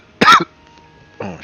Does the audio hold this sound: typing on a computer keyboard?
no